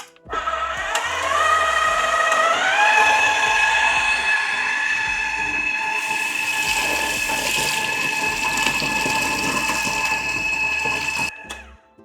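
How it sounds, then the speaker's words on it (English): An electric mixer beats apple pie pound cake batter in a bowl, whirring up to speed with a steady high mechanical whine and churning, running continuously for about ten seconds before stopping. "And I'm gonna mix it again, just a little bit more, maybe about 30 more seconds."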